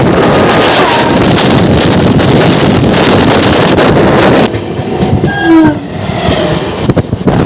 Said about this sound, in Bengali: দান্তনি জংশনের পর থেকে এই ট্রেন চলতে পারে একশো তিরিশ কিলোমিটার সর্বোচ্চ গতিবেগে